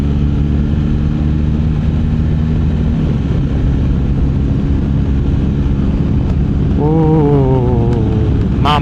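A BMW R 1300 GS Adventure motorcycle cruises in fifth gear, its engine drone loud and steady under heavy wind noise, with a pitch shift rising near the end.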